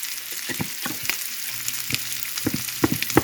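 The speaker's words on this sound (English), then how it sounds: "Now we just want to add a couple cloves of minced garlic." Minced garlic hits a hot frying pan and sizzles as a continuous hiss, broken by irregular scraping and tapping sounds from stirring.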